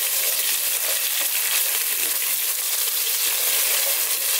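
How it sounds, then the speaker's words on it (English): Garlic ginger paste fries in a pan for a vegan tomato coconut lentil dish, giving a loud, steady, close-up sizzle with bright crackling throughout and no talking. "So we're just going to cook this around just for about sort of 2 to 3 minutes."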